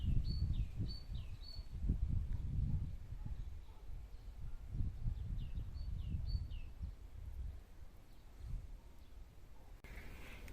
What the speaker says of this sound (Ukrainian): Пташка, як весною.